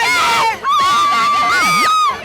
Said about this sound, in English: scream every time he drops in.